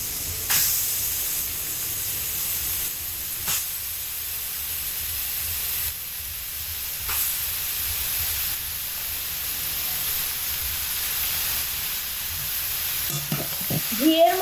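Grated carrots fry in ghee with bay leaves for carrot halwa, a steady close hiss and sizzle with occasional spoon scrapes as they are stirred, ending in a few clattering strokes.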